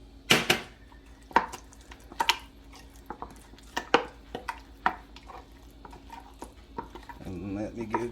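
Bacon bits being folded into a deviled egg filling in a bowl: a series of sharp utensil clicks and scrapes against the bowl, irregular and close, with a brief voice near the end.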